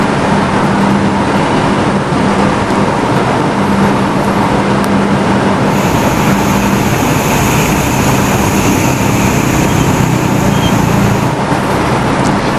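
Congested road traffic, including motorbikes, pushing through 30 to 40 cm of flood water on Jalan Daan Mogot in Cengkareng, West Jakarta; a loud, dense, continuous roar of engines and wet rushing noise with no break.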